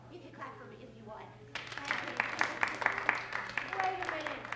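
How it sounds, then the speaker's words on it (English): A children's audience breaks into clapping partway through a 1992 kids' show, the applause swelling after a quiet stretch with faint voices underneath. "And you can clap for me if you want."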